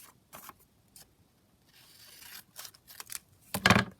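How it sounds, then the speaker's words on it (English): Scissors trimming paper for a large triple-pocket craft, with a few short snips, a longer rustling cut, then a louder close crunch of blades at the end, no talking. "So I'm just going to again trim that down."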